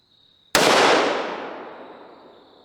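One sharp, loud shot from a Ruger precision rifle with a muzzle brake cracks out of near silence and then fades through a long, ringing tail.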